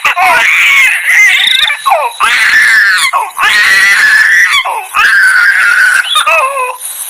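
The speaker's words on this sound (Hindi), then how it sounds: "गुड़िया के रोने की आवाज" Doll crying in an animated Hindi horror story: loud, high wailing sobs come in repeated rising bursts with brief gaps between them.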